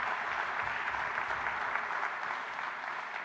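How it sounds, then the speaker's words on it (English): Mourners at a memorial service applaud together, with steady, even clapping that holds at a moderate level throughout. "Please give that applaud."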